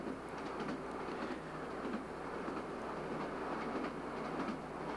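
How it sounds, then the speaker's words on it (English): Inside a Class 156 four-car diesel train running north from Inverness along the North Sea coast in 1991: a steady, close rumble of the carriage with faint rhythmic clickety-clack of the wheels on the rails. "We're riding a class 156 four-unit set."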